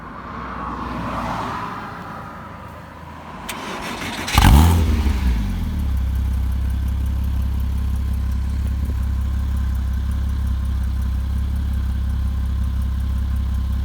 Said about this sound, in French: Vu que c'est une Porsche, ça se passe à gauche le démarrage.